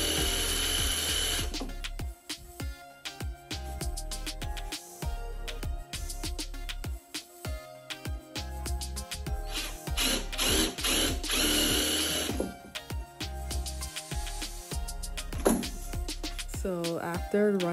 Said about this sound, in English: Instead of drilling forward, it was drilling backwards.